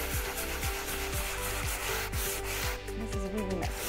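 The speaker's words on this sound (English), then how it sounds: "So now our next step is gonna be to sand that down." Dried drywall patch and texture sanded down by hand, a near, rhythmic back-and-forth scraping with quick repeated strokes at a steady pace, with no talking.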